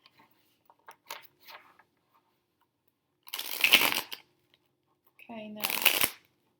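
Tarot cards are shuffled in two short, crisp riffling bursts, close to the microphone. A voice speaks briefly just before the second burst.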